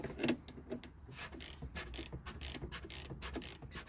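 A ratchet wrench tightens a nut on BC Racing coilovers being fitted to a Volvo S60, giving quick bursts of rapid clicking that repeat in a steady rhythm, close by.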